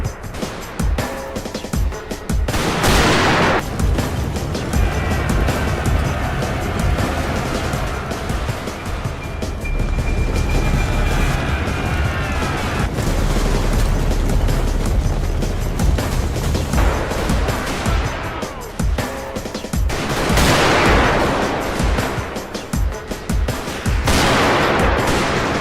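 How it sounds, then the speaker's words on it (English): Dense, continuous battle din in a Total War game: massed British infantry rifle fire, Gatling guns and rockets against Zulu attackers in the 1879 Battle of Gingindlovu, loud and unbroken, with rushing swells over a low rumble. "British infantry opened fire, backed by Gatling guns and rockets"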